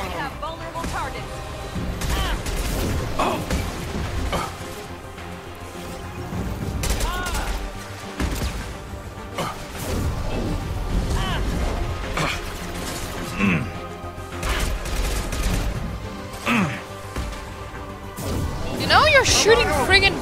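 Rockets and gunfire hit at the player in the video game Mass Effect 2, with repeated blasts, crashes and bursts of fire scattered through a dense battle under frequent talking.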